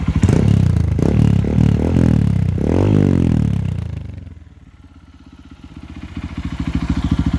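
Honda XR150 motorcycle engine revved in several sharp, loud bursts, then dropping back to a rough, pulsing idle that slowly builds again.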